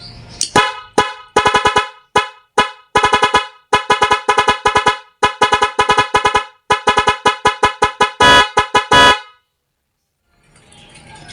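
Nhay 3+ Pro musical car horn wired through an MDL passing-light white wire, blaring a loud rapid sequence of staccato tone bursts in a rhythmic melody for about nine seconds, then cutting off to quiet background noise.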